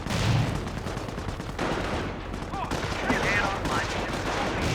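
Sten submachine guns rattle in Company of Heroes as British Commandos fight Panzer Grenadiers, with dense, continuous gunfire mixed with battle noise and brief voice callouts.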